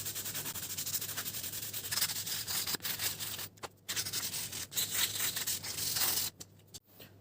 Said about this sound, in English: You can start to sand this part down and smooth.